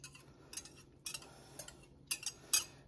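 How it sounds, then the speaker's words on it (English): Eggs and bacon being stirred in a bowl for a Christmas morning quiche, with soft clinks of a utensil against the bowl in short irregular bursts, faint and close. "I have to stir that around a little."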